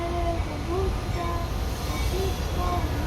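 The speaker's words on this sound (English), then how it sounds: "Train noises everywhere." Train noise at the Clinton Green Line station in Chicago: a steady low rumble with faint squealing tones from the rails, continuous and fairly close, with no talking.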